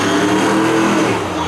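Drag-racing truck engine revving loud and steady at a Beech Ridge spectator drag event, a dense continuous roar close by for the whole moment.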